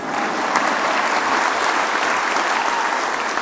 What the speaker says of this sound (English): You can clap a lot more if you want to.